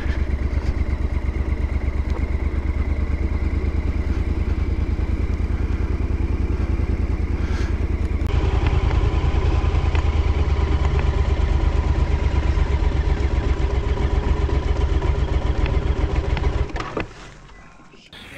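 A motorcycle engine idling steadily with a loose throttle grip, a continuous mid-pitched chugging drone held for most of the clip, loud and near, shifting slightly partway through before cutting down abruptly at the end.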